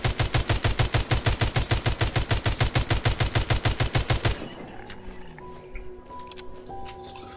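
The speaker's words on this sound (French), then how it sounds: "La sulfateuse, oh, elle est partout" Machine gun fire in The Walking Zombie 2 video game rattles in a fast, even, loud burst for several seconds, then cuts off to quieter game ambience.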